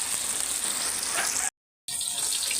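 Papaya sautéing in a pan, a steady bright sizzle and hiss throughout, briefly cut off by a short gap of silence before the frying resumes.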